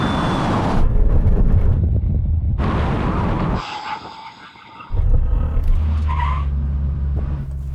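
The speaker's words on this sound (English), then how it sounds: "When we reach the line, full emergency stop." Performance SUVs including a Porsche Turbo GT make a full emergency stop from 100 mph on a test strip, loud roaring and tyre scrubbing in bursts, a brief lull, then another heavy braking run near the microphone.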